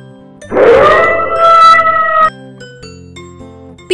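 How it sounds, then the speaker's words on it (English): A wolf howls in a single long, sustained, loud wavering call, followed by a quieter trailing chime-like tone. "Wolf."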